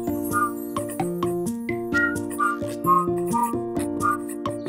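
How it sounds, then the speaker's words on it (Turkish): A cheerful whistled melody in a Turkish children's nursery song steps through short, bright notes in a bouncy rhythm over a simple musical backing. "biz ıslık çalarken"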